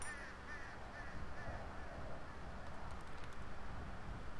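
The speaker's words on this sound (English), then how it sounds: "Oh shit. It's a bird." A bird cawing in the video game Grand Theft Auto V, harsh crow-like calls repeating near the start and again later, faint against quiet game ambience with some low rumble.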